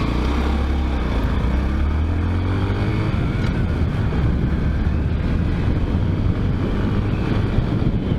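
A Honda Grom motorcycle riding through the streets of Zion, Illinois, its low engine drone steady and continuous under heavy rushing wind buffeting the microphone throughout.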